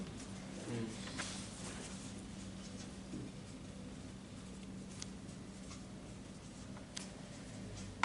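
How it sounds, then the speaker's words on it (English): A pen scratches across paper at a philosophical consultation workshop, faint and ongoing, with a few soft ticks and quiet room noise and murmured voices in the background. "Alex, you want to write it down?"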